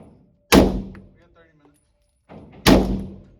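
A Walther PDP handgun fires at a close target: two sharp, loud shots about two seconds apart, each with a short echoing decay.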